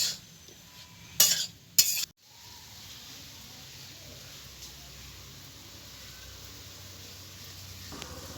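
Water lily stems being stirred with salt and turmeric in a dry wok with no oil. Two loud scraping strokes come first, then a steady low hiss that continues alone, close up.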